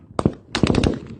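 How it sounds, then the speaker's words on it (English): A recording of gunfire: a quick pair of shots followed after a brief pause by a rapid burst of several more, sharp and fairly close, with no talk. "The sound of gunfire goes on for more than 5 minutes."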